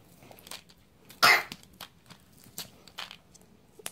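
A child gives one loud, harsh cough, followed by several quieter coughs and throat sounds spread out, close by.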